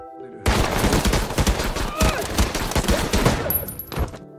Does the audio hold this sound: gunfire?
yes